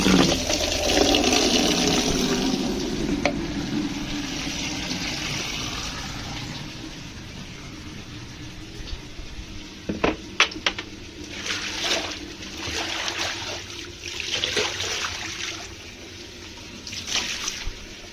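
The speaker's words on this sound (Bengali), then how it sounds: "এবার ছাদ ধোয়া কমপ্লিট আমার।" Water splashes and pours steadily while a rooftop is washed, where flowering plants are hosed down, with a continuous wash giving way to scattered splashes and drips later on.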